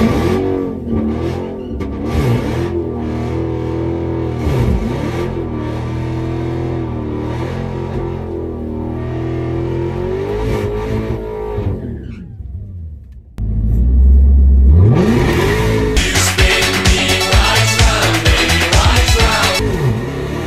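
Dodge Challenger SRT Demon 170 accelerating hard in a roll race, a loud, deep engine roar rising through gears with pitch swings, then a sudden louder blast of full-throttle acceleration with tire spin.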